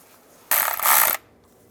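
Ratchet wrench snugging a sensor bolt on a 2007-18 Jeep Wrangler valve cover, a single close burst of rapid clicking lasting under a second, loud against a quiet background.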